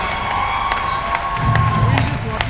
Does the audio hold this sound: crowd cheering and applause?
yes